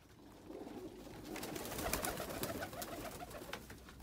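Pigeons at a pigeon market in Oman, a low burbling coo from several birds mixed with wing flutters and market bustle, fairly close and continuous without talk.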